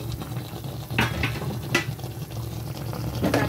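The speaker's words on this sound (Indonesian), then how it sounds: "Ini sudah mendidih, kita buka." Soy sauce chicken simmering in a covered pot, with a steady bubbling boil and sizzle close by, broken by a few sharp clinks of lid or utensil against the pot.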